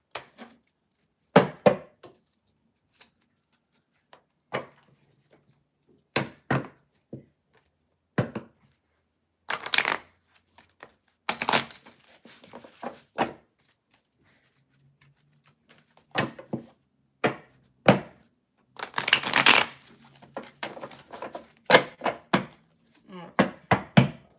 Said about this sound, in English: This is my second deck that wanted to get stuck while shuffling for you